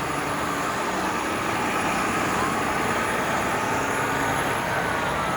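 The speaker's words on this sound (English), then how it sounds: "I do not want to be competing with these buses here" City buses and other road traffic on a busy Toronto road make a steady, close rumble with no clear breaks throughout.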